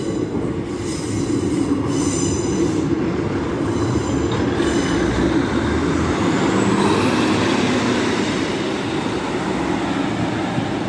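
A Class 156 diesel train passes a Lincoln level crossing with a loud, steady, close rumble of wheels on rail, and a high wheel squeal rises in the last few seconds.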